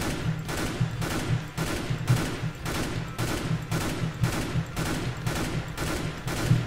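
Rapid bursts of gunfire repeat in a steady rhythm, loud and close, from automatic weapons in Counter-Strike: Global Offensive, with no talking.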